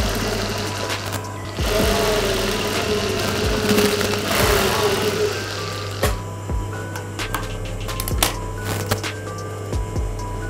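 A sewing machine runs a pressing stitch on a blouse, its motor whirring loudly for a few seconds before easing into a lower steady hum broken by light clicks and taps.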